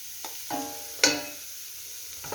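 Leeks cut finely sweating in 40 grams of butter in a pan, a soft steady sizzle broken by a few short stirring scrapes and one sharper clatter, close and without talk.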